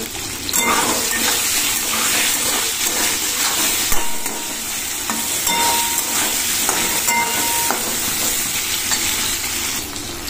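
Cumin seeds sizzle and crackle steadily in hot oil in a home kitchen, a continuous close frying hiss with faint clinks of utensils and no talking.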